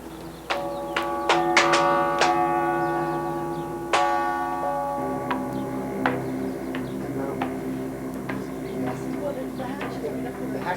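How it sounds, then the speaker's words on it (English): A big church bell in a bell tower in St. John's rings with several deep, resonant strikes whose tones hang and decay, heard at moderate distance alongside quieter clopping and ticking sounds. "This is the big bell."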